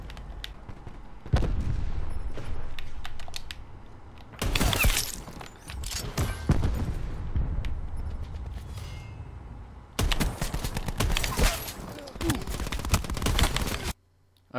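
Gunfire in a Call of Duty Black Ops 4 gunfight with MOG 12 and SG12 shotguns, dense loud bursts of shots and impacts in two long stretches, over continuous game ambience.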